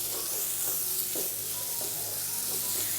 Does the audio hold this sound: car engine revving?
no